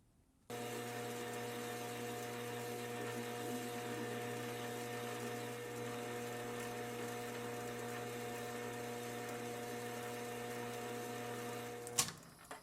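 A metal lathe turns a steam engine spool valve down to diameter: a steady machine hum with strong tonal bands runs continuously and alone for about eleven seconds, then a brief clatter as it stops.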